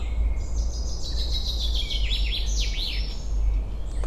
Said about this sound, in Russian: Как поют птицы, а?